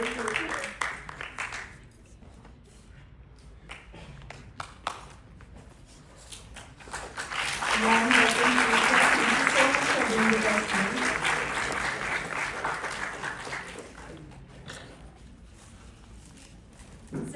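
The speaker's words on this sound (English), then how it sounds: "Please join me in giving a big round of applause." An audience at a lecture introduction breaks into a swell of applause that builds, holds for several seconds and fades, with a person talking before and after it.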